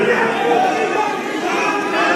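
Youth wing supporters at a political rally chanting slogans together, a loud, continuous crowd roar filling the space with no breaks.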